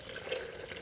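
Water runs steadily into a blender, a soft continuous splashing pour lasting under a second with no voices.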